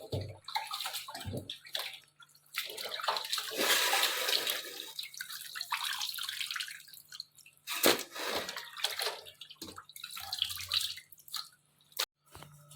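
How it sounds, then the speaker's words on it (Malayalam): Water drains from beef pieces in a colander while a homemade beef pickle is prepared, pouring and splashing in uneven bursts with short drips and gaps in between, fairly close and without talk. "അതിനകത്തോട്ട് ഇത് നമ്മളിട്ട് ആ വെള്ളം മൊത്തം ഒന്ന് വാർന്ന് കളയും"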